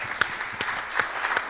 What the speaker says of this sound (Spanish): Lo despedimos con un aplauso.